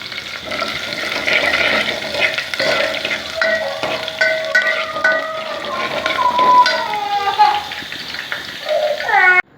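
Tempering spices with garlic sizzling in hot oil with clattering utensil and stirring noises, underneath some faint background voices and tonal sounds.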